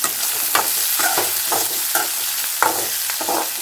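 Onions and drumstick pieces fry in a hot pan while a spoon stirs them, giving a steady sizzle broken by several scraping strokes in an uneven rhythm, close and fairly loud.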